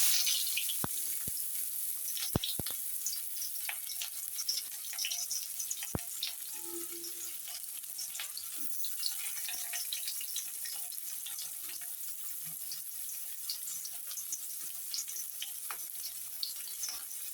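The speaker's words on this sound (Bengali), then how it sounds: "এখন আলু ভাজির তেলেই দিয়ে দিব পেঁয়াজ কুচি।" Chopped onion sizzles in oil left over from frying potatoes, a steady, fairly quiet hiss with scattered crackles and pops throughout, with no talk.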